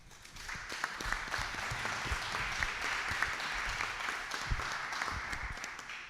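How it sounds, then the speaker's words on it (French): Applause from a conference audience at a cross-border colloquium on family businesses, a steady wash of many hands clapping at moderate distance, sustained throughout with a few sharper individual claps standing out. "je vous demanderai de l'applaudir"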